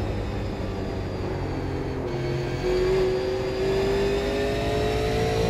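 A Super Late Model race car engine at full throttle in the iRacing simulator: a loud, steady, high-pitched drone whose pitch climbs slowly as the car accelerates, with no talking over it.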